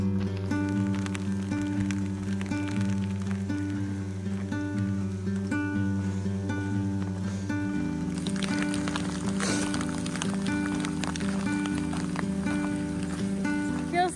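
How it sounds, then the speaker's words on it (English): Steady rain pours down throughout on the North Rim of the Grand Canyon, a dense hiss of drops with a sustained low tonal hum running underneath. "The rain's making it all dark."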